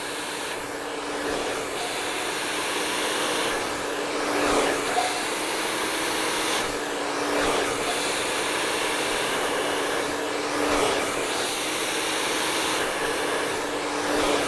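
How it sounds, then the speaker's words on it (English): Hair dryer blow drying hair with a round brush, a loud continuous close whoosh with gentle periodic swells as the airflow moves across the hair, no talking. "Using a round brush, I'm going to make sure that I blow dry the same process as I've done"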